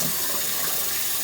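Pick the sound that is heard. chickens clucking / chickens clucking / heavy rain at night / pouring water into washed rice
pouring water into washed rice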